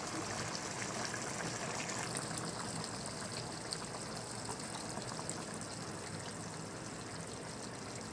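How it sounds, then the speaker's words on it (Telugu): A soft, continuous pour of water trickling into a pan, steady and fairly quiet with no voices. "చాలా తక్కువ వాటర్ పోసుకుంటున్నాను"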